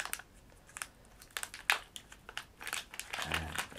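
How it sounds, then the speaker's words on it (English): Crumble controller kit parts come out of a small plastic bag, with quiet, close crinkling and rustling in short bursts and a few sharper crackles. "the first thing we're going to do is unpack the Crumble and Sparkles from their little bag."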